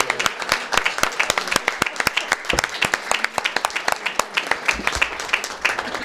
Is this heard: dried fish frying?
no